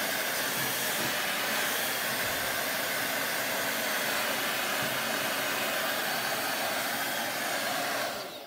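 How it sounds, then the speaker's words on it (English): Steady, close blow dryer roar runs without a break while chalk paint dries on paper, with broad airy hiss and a slight change in tone in the final second. "When I dry stuff like this with a blow dryer, I'll hit it like that"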